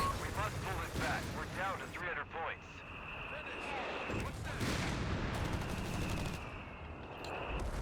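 Artillery barrage in Company of Heroes 3, a 1v1 match with German and US forces, booming repeatedly alongside bursts of gunfire in a dense, continuous battle mix, with a voice talking over it throughout.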